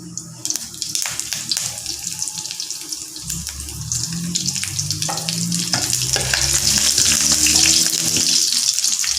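Curry leaves sizzle and fry in hot oil while stir-frying cabbage, a steady hissing spatter that grows louder and denser over several seconds, with faint clinks of stirring.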